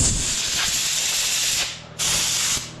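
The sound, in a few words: blowing crud out of a shock absorber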